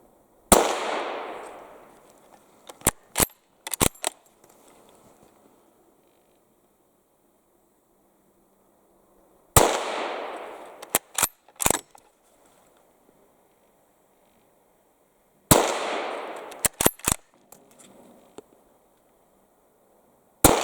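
A customized Savage 340A carbine in .30-30 fires mild reduced loads outdoors. There are three separate shots several seconds apart, each with a short decaying echo and then a quick run of sharp mechanical clicks.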